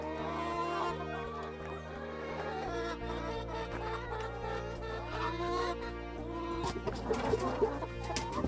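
Chickens cluck and squawk steadily on a small Brazilian farm on a hot, sunny morning, a dense overlapping chorus of hens close by that grows busier and louder toward the end.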